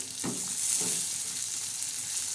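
Eggplant seasoned with red chili powder and salt fries in a pan with a steady, close sizzling hiss, broken by two soft stirring scrapes near the start.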